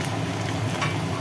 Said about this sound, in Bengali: হয়ে গেল কমপ্লিট ডিমের বড়া ভাজা।